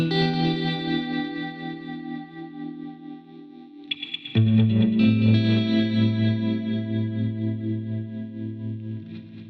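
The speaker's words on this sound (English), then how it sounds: "With some reverb, delay, tremolo, a default clean guitar amp patch," Clean electric guitar through a default amp patch, shaped with reverb, delay, tremolo and a touch of EQ, plays sustained, shimmering chords in a slow beat. Partway through, a swell shifts the chord lower and fuller.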